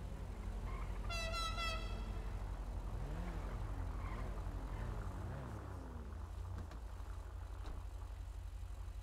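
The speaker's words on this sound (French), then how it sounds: "C'est qui ce fou avec ce klaxon là?" A parked car's horn honks in a long series of toots on a city street in Ghent at night, loud and close, with engine rumble and traffic noise underneath.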